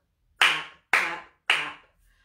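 Three crisp hand claps, evenly spaced and close, keep time with the children's rhyme Wind the Bobbin Up, each one ringing out briefly with no voices in between.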